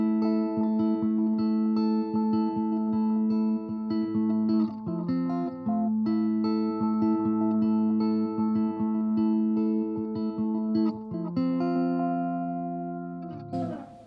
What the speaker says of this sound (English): The tape echo sounds something like this.